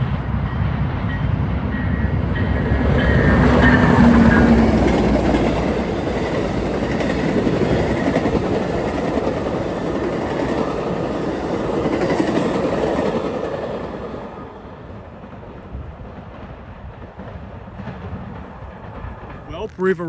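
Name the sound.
Floridian passenger train led by 301 with a P42 locomotive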